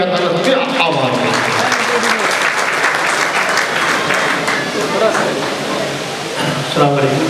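An audience at a school silver jubilee celebration breaks into loud, sustained applause, dense clapping filling the hall for several seconds with voices rising faintly near the end.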